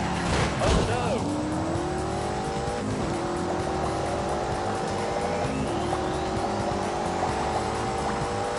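A BMW 8 Series with four-wheel steering races in The Grand Tour game, its engine revving up and down through gear changes as tires squeal, loud and continuous, with a voice talking over it.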